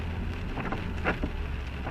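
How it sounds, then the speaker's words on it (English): Steady rain hisses continuously close by in Franklinville, a former mill town, a dense, even wash of droplets with no voices. "This is so beautiful in the rain."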